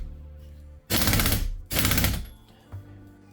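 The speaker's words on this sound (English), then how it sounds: "The plastic flywheel is just torqued down with an impact gun." Two loud, rapid-fire bursts from an impact gun torquing down the plastic flywheel on a Cfmoto Uforce 500 UTV engine, each about three-quarters of a second long and close by, separated by a brief pause in a quiet garage.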